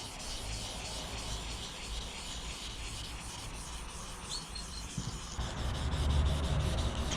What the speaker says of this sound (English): And now we're finishing off with some 2000 grit.